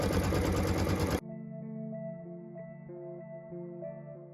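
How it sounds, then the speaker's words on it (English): An embroidery machine stitches a stocking placement line on stabilizer: a loud broadband burst at first gives way to a steady, tonal motor whine with rhythmic pulses as the needle works, close and with no talk. "So what we're stitching now is the stocking placement line."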